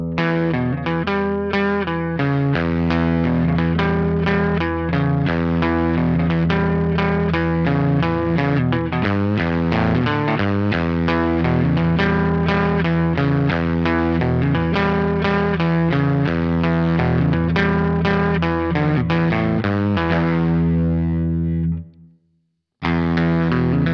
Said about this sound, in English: I look forward to showing you some sound samples of the Harmony H15 Bobkat.